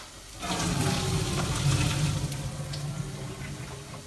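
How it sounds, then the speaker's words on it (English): Cooked vegetables are drained at a kitchen sink, giving a steady rush of pouring water that starts abruptly and runs for several seconds before easing off, close and moderately loud, with no talking. "I'm going to go to the sink and I'm going to go and drain this veg."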